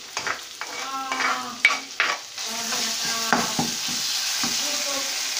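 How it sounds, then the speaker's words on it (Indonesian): Ground garlic, red chili, lemongrass, galangal and salt paste stir-fried in a pan for a Javanese coconut-milk tofu and tempeh dish, with steady sizzling and loud scraping strokes of a spatula, close up and without talk. "Ini kita oseng teman-teman"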